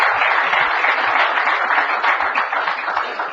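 A city council meeting audience claps in a sustained, dense burst of applause that holds steady and then gradually fades.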